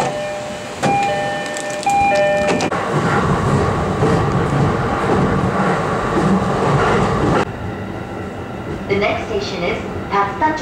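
A Joban Line train pulls out at night, with a steady, loud rolling rumble and rattle that carries through the clip, after brief tonal chimes at the start and a quieter stretch of wheel and car noise at the end.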